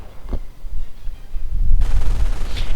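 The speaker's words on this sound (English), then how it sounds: "MG42 firing at the infantry section" MG42 machine gun firing at infantry in a World War II strategy game: a sustained, loud rattling burst of gunfire that kicks in partway through and runs to the end, after a quieter stretch with a single muffled thud.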